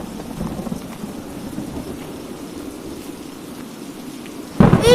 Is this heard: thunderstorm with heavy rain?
yes